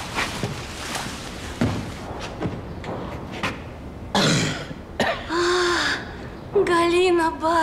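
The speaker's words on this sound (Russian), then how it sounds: "Кашель у него какой-то подозрительный." A man in a Russian drama coughs and clears his throat repeatedly in short, harsh bursts up close, between stretches of quieter movement and soft thuds.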